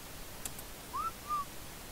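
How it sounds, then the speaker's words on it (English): Whistle command in the video game ARK: Survival Evolved, two short clean whistled tones, the first rising and the second level, clear against a quiet background with no talking. "if we use this whistle,"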